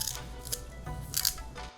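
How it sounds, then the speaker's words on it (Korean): Scissors snip the pectoral, belly and dorsal fins off a yellowtail amberjack, giving a few short, close, crisp cuts at a steady pace with no talk. "자, 칼을 대기 전에 가위부터 듭니다."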